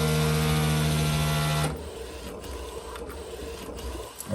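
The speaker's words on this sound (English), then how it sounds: "and then went ahead and printed." A DTF printer, run right after a head cleaning while troubleshooting missing white ink, gives a loud, steady mechanical whir that cuts off abruptly after under two seconds, leaving a quieter room hum.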